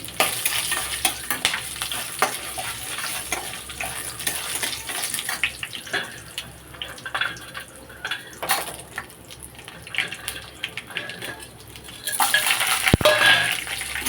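Urad dal, dried red chillies and ginger frying and being stirred in a pan while a mint chutney is made, giving a steady close sizzle with scraping stirs and a louder burst of crackling near the end, with no talk.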